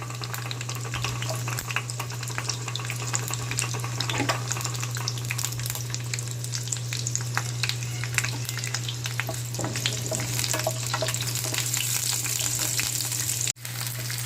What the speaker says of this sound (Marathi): मी आता तेल छान गरम झाले तर कांदा ऍड करत आहे